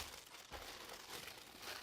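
Close, quiet crinkling and crumpling of a plastic seal being pulled open on a mail package, a short continuous rustle with no talking.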